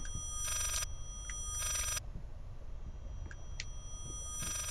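A telephone rings in the horror video game Layers of Fear, two long electronic bursts of ringing a second apart, loud over a quiet, dark ambient backdrop with faint clicks.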